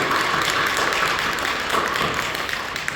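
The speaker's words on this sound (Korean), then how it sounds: "격려하며 박수해 주시죠." Congregation applauding in a Korean church service, a brief, dense and even patter of many hands clapping at moderate loudness with no break.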